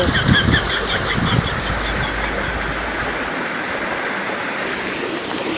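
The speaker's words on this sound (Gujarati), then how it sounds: "ભાઈ લોકો તમને નાનો ધોધ બતાડું" Steady rushing of a small waterfall at Kalam Dungar hill, a constant broadband roar from start to finish, with faint bird calls high above it in the first seconds.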